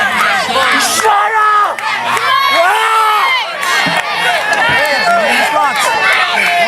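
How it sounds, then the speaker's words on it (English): A wrestling crowd at a live show yells and cheers loudly throughout, with many overlapping shouting voices rising and falling in a dense, close roar. "This crowd firmly behind Outrage."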